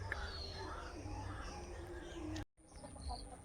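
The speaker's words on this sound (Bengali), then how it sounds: "পাখির ডাক শুনুন" Birds call outdoors in a Sundarban village, with short chirps and fowl-like clucks over a steady background hiss. The sound drops out briefly partway through.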